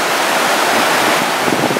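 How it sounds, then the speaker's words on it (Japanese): Surf washes steadily onto Zaimokuza beach in Kamakura after a night of strong wind, a continuous broadband roar mixed with wind buffeting, with no voices. "ここ鎌倉材木座の海岸ですよね"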